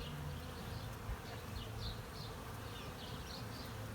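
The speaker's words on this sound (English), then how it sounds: "it's actually just hundreds of bees loving our tree" Hundreds of bees swarm a tree above a parkway, their steady, dense buzzing hum filling the air continuously like a distant drone, with no voices present.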